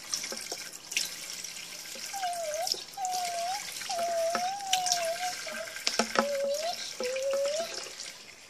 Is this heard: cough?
no